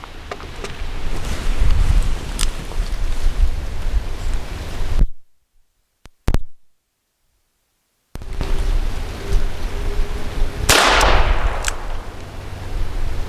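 Shots from a Diamondback Sidekick .22 revolver loaded with CCI Mini Mag segmented hollow points, loud outdoor reports over wind noise, with a short silent gap and a single sharp crack partway through.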